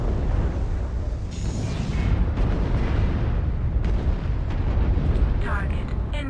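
Airstrike explosions in Mechwarrior Online roll in as a continuous heavy rumble of booms and blasts, loud and close, with radio-style voice callouts layered over the bombardment.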